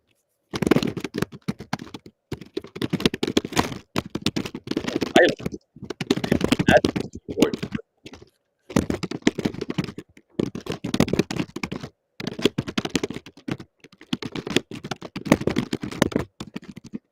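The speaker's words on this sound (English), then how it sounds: "we're losing viewers from typing" Bursts of fast clicking keystrokes on a computer keyboard come in short runs separated by brief pauses, fairly close and crisp, repeating throughout.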